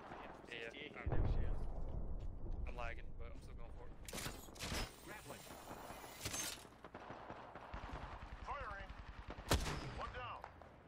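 Apex Legends gunfire cracks in scattered shots and short bursts, some sharp and loud, mixed with other impacts while players talk over the action.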